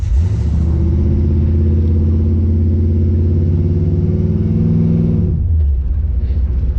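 A classic Chevrolet Camaro engine roars in a loud, sustained rev for a burnout on dirt, holding a deep rumble for several seconds before dropping back to idle.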